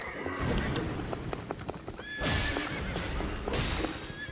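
A horse in the Elden Ring video game gallops with rapid clip-clop hoofbeats and lets out whinnying neighs, heard fairly quietly amid busy game noise.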